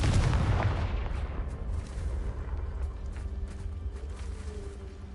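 Confringo blasting spell in Hogwarts Legacy: a single heavy explosion booms at the start, then rumbles and fades over several seconds into a quieter game ambience.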